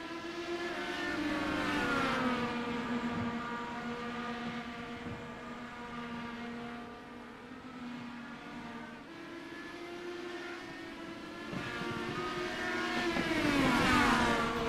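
IndyCar race cars in a Dark Horse Racing Area 51 series: a loud, steady engine whine rising and falling in pitch as the cars brake and accelerate around the track, with several engines layered.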